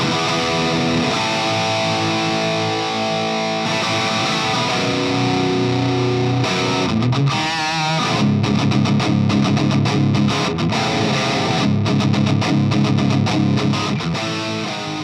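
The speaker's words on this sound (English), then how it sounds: "this is a distortion pedal that's meant to be used with a real amp" Electric guitar played through a Marshall distortion overdrive pedal into a real amp, with thick, saturated sustained chords and then choppy, rapid riffing, loud and continuous with no voices.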